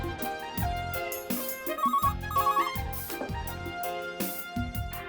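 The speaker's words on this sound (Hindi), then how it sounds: "आपका फोन बज रहा है।" A phone ringtone plays in an office setting, a loud melodic tune with repeating chiming phrases that carries on steadily without speech.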